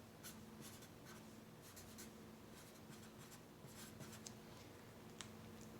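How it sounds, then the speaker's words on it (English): Pen or marker scratching steadily across paper while working out a chemistry limiting-reactant problem, a close, continuous series of short strokes and scribbles with no talking. "So I will write those on a paper right here."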